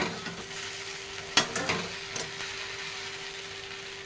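Sliced okra is stir-fried in a pan near the end of cooking. A faint continuous sizzle with a steady background hum sits under several sharp spatula scrapes and taps, clustered mostly in the middle.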